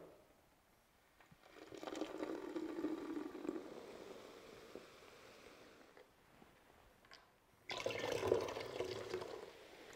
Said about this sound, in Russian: я сначала перелью Кока-Колу вот в этот сосуд